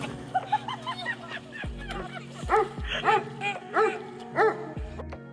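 Dogs bark and yip on a canal walk, sharp repeated barks close by under a bed of music, with a short whimper among them.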